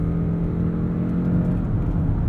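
A 2017 Lexus ES300h hybrid with a 2.5-liter engine pulls hard in sport mode, a steady low engine drone and whir holding high revs from inside the cabin, continuous and loud with no talk.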